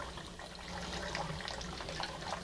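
Quiet water sloshes and trickles while seitan dough is kneaded and rinsed, a soft continuous splashing with small bursts, no voices.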